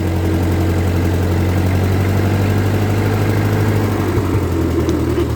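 A 1948 Ford 8N tractor engine idles after a cold start, giving a steady, loud, low-pitched chugging drone close by with no talking.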